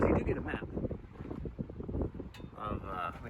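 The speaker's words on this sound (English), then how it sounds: "Who doesn't like the sound of wind in their audio mic?" Strong gusts buffet an exposed microphone at a trailhead, loud low rumbling blasts that rise and fall throughout, with a voice talking over them.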